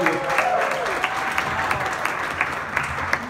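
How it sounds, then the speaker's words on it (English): Sustained audience applause in a hall for a drinks sponsor, Casa Preco, steady and fairly loud with scattered sharper claps throughout and a little crowd noise beneath. "I want to say a round of applause for Casa Preco"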